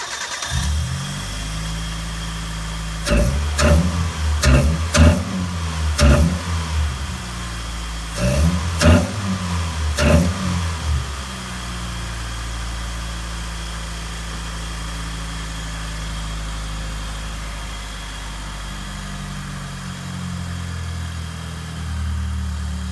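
A car engine with a newly installed cold air intake cranks and revs in two bursts of throaty rumbling, then settles into a steady, low idle that continues to the end.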